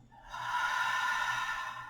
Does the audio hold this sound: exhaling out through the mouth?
yes